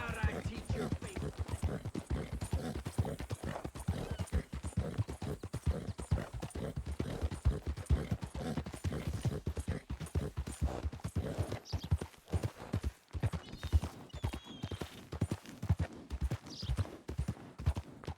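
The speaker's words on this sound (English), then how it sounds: "Let's hitch the horse here." Horse hooves in Red Dead Redemption 2, a steady rhythmic clip-clop of a walking horse throughout, moderately near, with faint game ambience behind.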